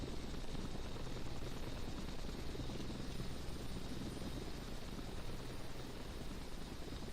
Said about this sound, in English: That's a nice angle of the helicopter.